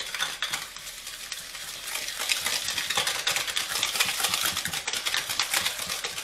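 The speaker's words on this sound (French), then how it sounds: "Je vais venir mettre mon sucre. Je vais mélanger." Eggs and sugar being whisked together in a bowl, a steady rapid scraping and clinking of the whisk that carries on unbroken and fairly close throughout.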